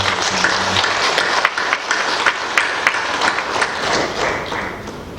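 A church congregation gives a round of applause, many hands clapping in a sustained, even wash with a few sharper claps standing out, fading slightly toward the end.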